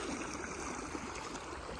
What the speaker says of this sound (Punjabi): ਦੇਖੋ ਭਾਈ ਪਾਣੀ ਪੱਧਰਾ ਜਾ ਰਿਹਾ ਹੈ